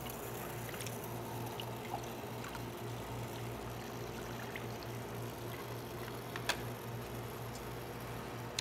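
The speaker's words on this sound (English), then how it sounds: "you can hear that the chiller's running" An aquarium chiller runs in a classroom fish hatchery setup, giving a steady mechanical hum with a low tonal drone, overlaid with faint trickling water and occasional small ticks, continuous and fairly quiet throughout.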